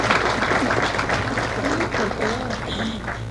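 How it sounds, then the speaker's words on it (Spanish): Dense, sustained applause from an audience at an academic lecture, a steady wash of many hands clapping throughout with some voices mixed in. "Aplausos."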